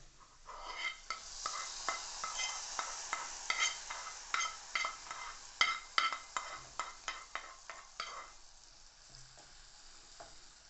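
Hot fried tempering goes into a pot of ripe-banana moru curry, setting off a loud, close sizzle that pulses in a steady series of bursts as it is stirred, then fades toward quiet, with no one talking.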